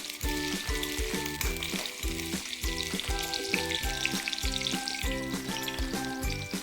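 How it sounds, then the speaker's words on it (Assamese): Onions keep frying in hot oil while being stirred for a traditional Assamese recipe, a continuous close crackling sizzle with soft spatula movements and rhythmic music playing underneath, no voice. "পিঁয়াজখিনি ভাজি ল'ম।"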